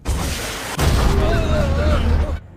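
RPG fire and explosion in the film The Ambush, a heavy blast followed by a rolling roar and debris rumble lasting about two seconds before cutting off.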